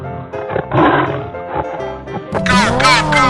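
A tiger growls and roars loud and close in an animal rescue game, rising into a drawn-out snarling roar near the end, mixed with game music and other animal sounds.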